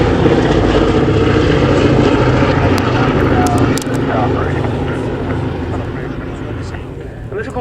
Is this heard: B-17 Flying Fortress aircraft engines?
yes